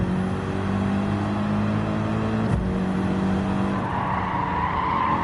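A race car engine in Gran Turismo 7 revs out in fourth gear uphill at Watkins Glen, a loud, steady, droning engine note with a brief dip mid-stretch before the pitch climbs again.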